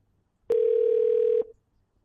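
Telephone dial tone on an outgoing test call, a single steady electronic tone lasting about a second, loud and close with sharp clicks at its start and end.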